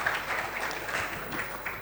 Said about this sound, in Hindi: तो एक बार ज़ोरदार तालियां अपने लिए।